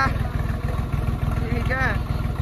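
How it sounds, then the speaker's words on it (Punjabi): A tractor engine runs with a fast, even, low thumping beat that stays close and loud the whole time, with voices talking briefly over it. "ਇਹ ਕਹਿੰਦੇ ਟਰੈਕਟਰ ਸਾਨੂੰ ਜਗਾ ਕੇ ਦਿਖਾਓ ਮੈਂ ਕਿਹਾ ਜਗਾ ਦਿੰਦੇ ਹਾਂ"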